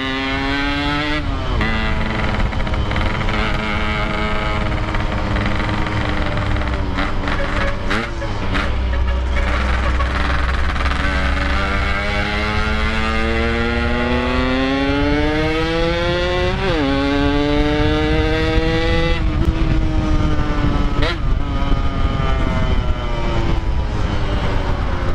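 A Yamaha RX King two-stroke motorcycle rides through busy traffic, its loud, close engine note rising and falling steadily as the rider shifts and revs, with no talk over it.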